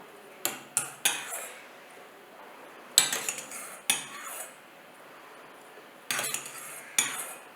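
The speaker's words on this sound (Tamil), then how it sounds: "இப்போது இதுக்கு தேவையான அளவு தயிர் சேர்த்துட்டு கலந்து விடலாம்" Spoon mixing curd into smoked brinjal pachadi in a bowl, a series of sharp clinks and scrapes in irregular bursts with quiet gaps between, close by and alone.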